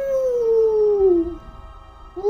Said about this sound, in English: Then you hear from the other side of the cave just this howl.